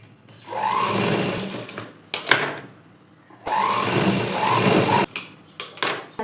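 A sewing machine stitches a blouse's lining to its main cloth in two steady whirring runs, each a second or two long, separated by pauses and short clicks as the fabric is repositioned.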